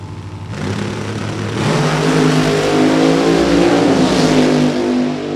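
Race cars on a dirt late model qualifying session at Great Bend, engines roaring loud and steady as cars pass, pitch climbing and swelling under acceleration with continuous mechanical drone throughout.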